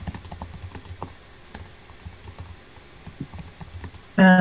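Rapid, uneven clatter of keys on a computer keyboard, typed in bursts at close range with no talking, ending in a sharp louder noise.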